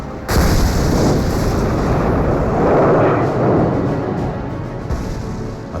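A loud, close battlefield explosion bursts suddenly and leaves a long, heavy rumbling roar that slowly fades over several seconds.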